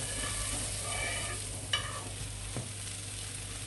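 Bread for French toast frying in butter in a pan, giving a continuous close sizzle with a couple of soft clicks from a spatula or utensil and no speech.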